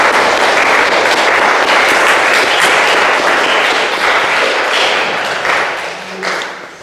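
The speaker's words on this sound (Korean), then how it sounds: "일단 먼저 축하의 박수를 보내주시기 바랍니다." Church congregation applauding in congratulation during a Sunday service, dense loud clapping from many people filling the room, tapering off toward the end.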